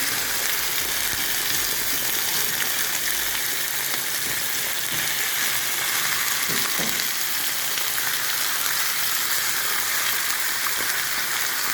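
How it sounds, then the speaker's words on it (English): Ossobuco meat searing in a hot pan, a loud, continuous crackling sizzle that stays dense and even throughout, with a couple of faint thuds partway through. "So you turn it. I think it's well seared."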